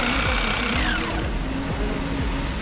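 A rice mill machine runs loud and close, a dense steady mechanical roar with a whining tone that slides downward, continuous throughout.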